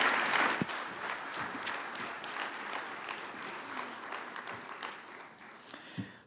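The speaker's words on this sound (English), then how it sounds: "Please join me in a round of applause" Audience applause after a panel session at an energy conference, steady dense clapping of moderate loudness that continues throughout, with no talking over it.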